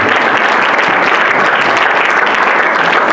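Loud, dense audience applause at a poetry slam fills the hall steadily for a few seconds, a continuous wash of clapping with no voices on top.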